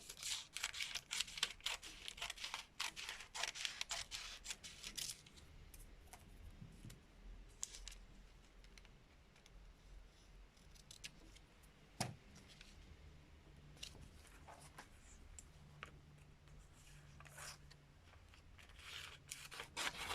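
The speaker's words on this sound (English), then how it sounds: "So I'm just going to trim this." A sheet of paper being trimmed for bookmaking: quiet, crisp cutting and rasping strokes come in bursts, busiest at the start and then scattered, with soft handling rustles and no speech.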